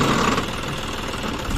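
A John Deere 5105 4x4 tractor engine runs steadily at idle, a continuous close mechanical rumble with a faint knocking texture and no talk.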